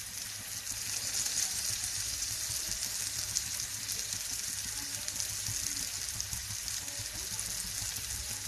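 Cleaned fish fry in a pan with a steady, moderately loud crackling sizzle that carries on evenly throughout, close by and without voices.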